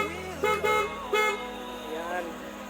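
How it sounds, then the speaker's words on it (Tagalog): Two short, bright beeps from a PIAA horn on a Honda ADV150 scooter sound close by, with a voice talking around them. "Horn."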